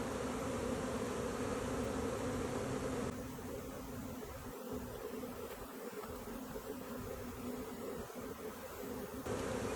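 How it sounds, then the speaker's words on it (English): A dense, steady buzzing of a large bee swarm around hive boxes during spring swarm collection, continuous and close throughout with slight dips in level midway. "Mom's just brushing the bees off the back of the boxes and shaking them into the top box."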